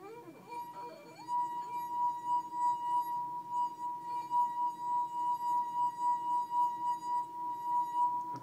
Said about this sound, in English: dip your finger in the water and you rub it around